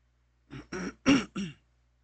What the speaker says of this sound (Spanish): tengo un poquito de tos todavía